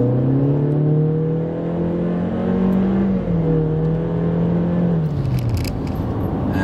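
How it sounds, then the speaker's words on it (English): A 2020 Honda CR-V engine with a CVT transmission accelerates, heard from inside as a continuous droning whir that holds a steady pitch rather than climbing through gear shifts, loud and close throughout. "And that sound is why a lot of people don't like CVTs."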